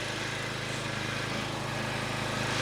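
A Racing RAC 3100-A petrol generator runs steadily nearby, giving off a constant, loud engine drone with a low hum and no pauses.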